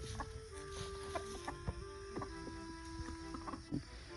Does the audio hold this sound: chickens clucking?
yes